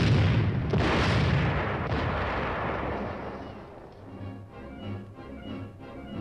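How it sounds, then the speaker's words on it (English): Tank platoon's high-velocity 90mm main guns firing, a heavy booming blast with a long rumbling roll that slowly fades into a lower, pulsing reverberation. "The tank platoon's primary armament consists of 5 high-velocity 90mm guns"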